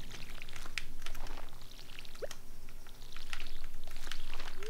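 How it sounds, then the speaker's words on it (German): Watering crops with a watering can in the farming game Stardew Valley: a steady soft pouring, splashing wash with small bright game chimes and blips over a low background hum, no talk. "Du darfst es auch gerne gießen."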